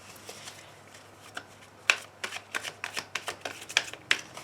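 Tarot cards being shuffled and cut by hand, a string of crisp riffling slaps and flicks that quicken toward the end, close up with no talking.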